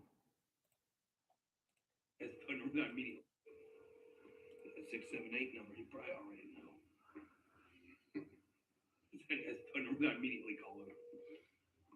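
A phone call plays over a line with repeated tonal ringing bursts and clicks between them, fairly close, with a voice talking through the middle stretch.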